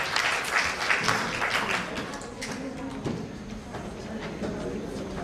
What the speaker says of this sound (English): A good round of applause for the current students.